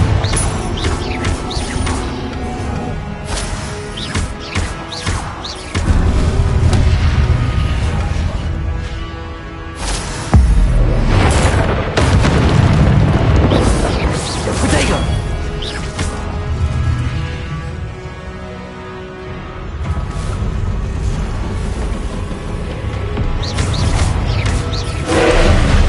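Confringo blasting spells go off in a game duel, with loud booming bursts near the 6- and 10-second marks breaking through a dense, continuous roar of magical combat.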